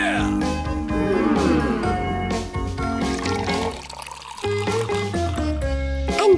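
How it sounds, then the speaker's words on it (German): Water splashes and pours in a cup, sloshing audibly beneath a steady background music track. "Ein Becher mit Wasser?"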